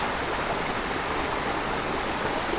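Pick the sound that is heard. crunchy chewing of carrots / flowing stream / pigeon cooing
flowing stream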